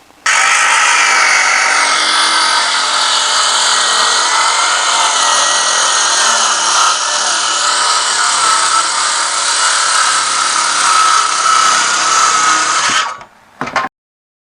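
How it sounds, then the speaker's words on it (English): A power saw rips through a sheet of plywood on a plywood cutting jig outdoors, one loud continuous high-pitched cut lasting about thirteen seconds before winding down abruptly. "I'm going to make this first cut this in half outside on the plywood cutting jig"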